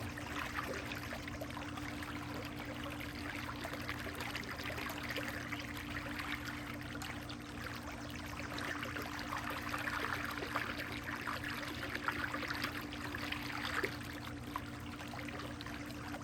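Pool water circulating steadily in a backyard swimming pool, a continuous soft trickling wash with a constant low hum underneath, even and unbroken throughout with no talking.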